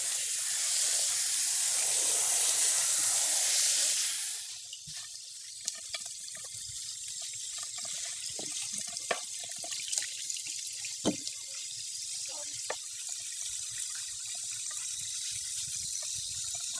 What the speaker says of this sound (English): It's very important that you use warm water so that you get all of the dirt out of the hair